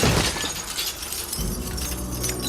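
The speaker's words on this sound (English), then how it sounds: "They play a glass smashing sound effect before cutting" A glass smashing sound effect, played as a man is thrown out a window in a TV scene, gives a loud shattering burst that spreads into a dense spray of tinkling debris over about two seconds.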